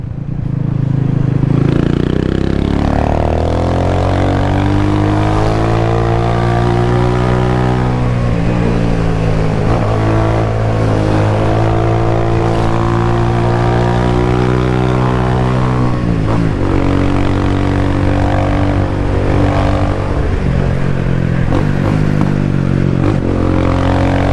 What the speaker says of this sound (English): So the bike is riding again.